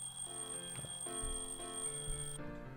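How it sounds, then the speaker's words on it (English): An alarm clock rings in the Doki Doki Outcast video game: a bright, repeating electronic chime in a steady pattern at moderate volume, then cuts off abruptly near the end. No one speaks. "I turned off my alarm clock."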